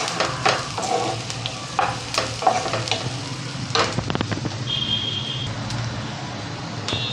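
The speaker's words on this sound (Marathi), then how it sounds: "कांदा आपल्याला छान गुलाबी रंगावर परतून घ्यायचा आहे." Onion for a fenugreek leaf vegetable dish sautés in a pan, a continuous sizzle broken by scraping and clinking stirring strokes, close and fairly loud, with no talking.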